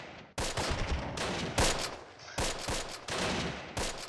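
A Thompson submachine gun fires in Close Combat, a World War II strategy game, in loud rapid bursts. Short pauses separate the volleys of close, sharp automatic gunfire.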